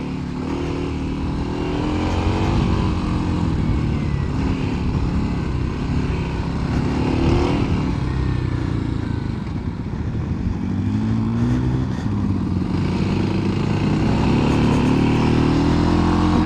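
Kawasaki KLX300 dual sport motorcycle ridden on San Diego backroads and trails, its engine loud and close throughout, rising and falling through gear changes and throttle blips.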